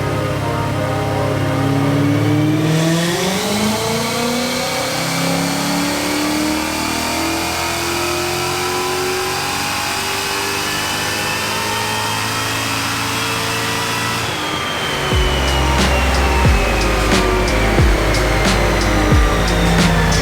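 A 2015 Ford Mustang GT with a 2.9L Whipple supercharger runs a dyno pull, its engine note climbing steadily in pitch as revs rise, loud and close, then dropping off before a rough, rumbling return near idle.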